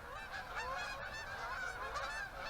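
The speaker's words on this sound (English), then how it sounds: "Can you hear all those Canadian geese?" A flock of Canada geese honks overhead, many overlapping calls in a steady chorus at moderate distance, fairly faint and with no talk.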